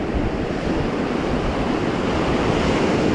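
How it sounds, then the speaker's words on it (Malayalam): Sea waves wash continuously onto the beach at Pondicherry, forming a loud, dense roar of surf mixed with wind buffeting the microphone, steady with no pauses and no voices. "ഈ വെള്ളത്തിൻ്റെ സൗണ്ട് മാത്രമേ ഉണ്ടാവുള്ളൂ, വെറും സൗണ്ട് മാത്രം"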